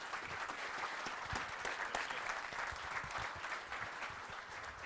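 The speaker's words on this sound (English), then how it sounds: "We'll give her a round of applause." A round of audience applause at a small startup pitch meeting in Wichita, steady and even for several seconds, moderately distant and fairly quiet.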